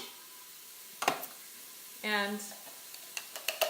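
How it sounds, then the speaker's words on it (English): Onions sizzle softly in a pan with celery for a quick chicken noodle soup, a faint frying hiss under a few clinks and stirs, with a brief voice in the middle. "My onions are already sizzling here,"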